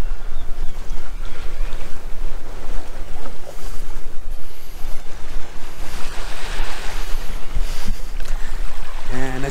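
Calm sea water laps at an empty morning beach in Puerto Morelos, with gentle surf washing in and strong wind rushing loudly across the microphone.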